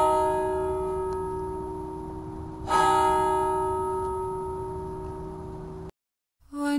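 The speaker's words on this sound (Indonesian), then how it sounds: "mendengar suara bel untuk berdoa Angelus" A church bell rings for the Angelus prayer, its long humming tones hanging in the air. A fresh strike lands midway before the sound cuts off abruptly near the end.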